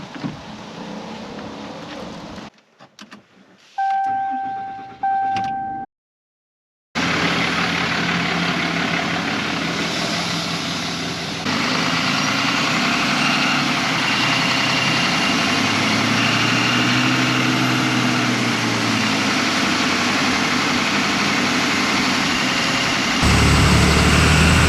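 A Ram 5500 chassis cab truck on a test drive, its engine running as a steady low drone with road noise throughout, after a brief drop at the start.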